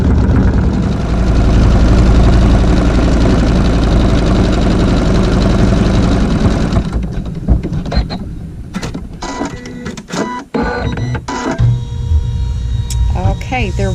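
A sewing machine stitches a Log Cabin Triangle quilt seam with regular thread, running at a loud, steady mechanical hum for about seven seconds, then stopping and leaving scattered clicks and handling noises.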